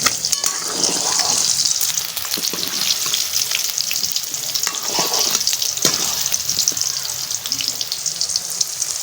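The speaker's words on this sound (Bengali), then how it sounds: "আর একটু কড়া করে ভেজে নেবো ডিমে একটু কড়া করে ভাজলে ভালো লাগে" Quail eggs frying crisply in hot oil in a pan, a loud continuous sizzle with occasional spatula scrapes and stirring, close up.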